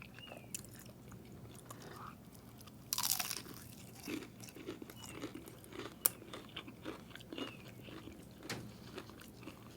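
Crunchy Chinese takeout chicken wings coated in garlic sauce are bitten and chewed up close. Sharp crunches come one after another with a few louder bites among them, and no one talks.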